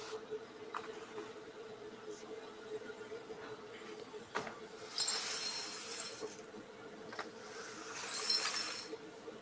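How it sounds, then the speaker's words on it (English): Glass pieces clink and rattle in a few short bursts, louder near the middle and end, over a steady low hum with no one speaking. "That sounds like glass from yesterday."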